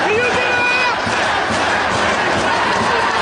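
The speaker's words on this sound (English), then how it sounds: "Listen to this crowd." A wrestling arena crowd roars and cheers during the Bryan Danielson versus Takeshi Morishima Fight Without Honor match, a loud, sustained wall of voices with yelling, and a commentator's voice faintly under it.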